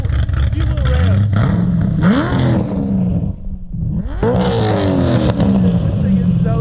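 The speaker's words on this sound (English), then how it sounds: "This is valves open. It's chopping so hard. Give it a few little revs." A sports car engine with its exhaust valves open revs hard and loud up close, several sharp rising blips with a choppy, rough idle rumbling between them.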